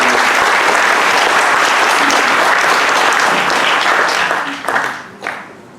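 Audience applause at a World AIDS Day event for a newly promoted health minister, sustained loud clapping from a large crowd that tapers off near the end.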